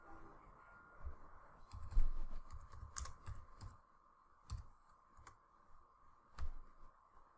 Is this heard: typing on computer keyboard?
yes